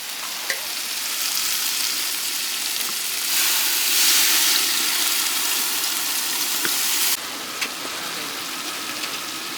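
Tamarind water hits a fish sambal frying in a village-style pan, and the steady sizzle swells into a louder, hissing surge for a few seconds before settling back to a bubbling fry. No one speaks.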